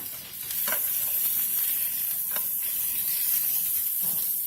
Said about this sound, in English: what I'm doing is just turning it every once in a while, just so that it could catch the flavor completely